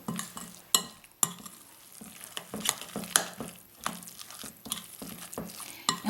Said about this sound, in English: And we're just going to stir this all up. Get it all incorporated in the bowl.